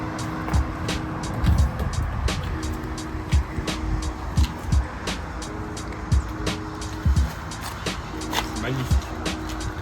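A Nissan Skyline R34 being driven, its engine note rising and falling under repeated sharp clicks and bumps, moderately close, with someone talking over parts of it.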